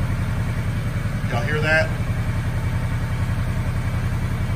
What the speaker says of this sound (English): tap, tap, that's the cam phasers. They're out of whack again.